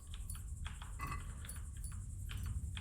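Keys jangle and clink softly in a medieval role-playing game as they are lifted from a sleeping man, with small metallic chinks scattered over a low steady background hum.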